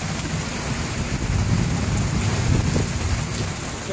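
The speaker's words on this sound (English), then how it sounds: "Dustin, it's raining. Yeah? It's cold rain." Steady cold rain pours down outside a house during a tornado-laden thunderstorm near Round Rock, Texas, with a gutter nearby; a dense, even hiss with low rumbling runs throughout, close and fairly loud, with no talking.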